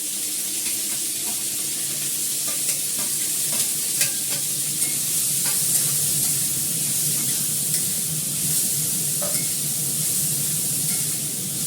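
Carrots, beans, green chili and onion frying in a pan, a steady, loud sizzle running throughout with scattered small pops and the occasional scrape of stirring, and no one talking.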